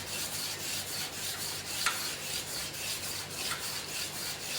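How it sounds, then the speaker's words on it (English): A 120-grit emery sheet rubs back and forth over a stainless steel workpiece, a steady close rasping scrape with faint rhythmic strokes and no voices. "The first step of polishing using the emery sheet"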